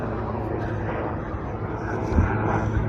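Fighter jets flying over a high-altitude spot in Leh Ladakh produce a steady, broad roar that swells slightly toward the end, heard at a distance with no talking.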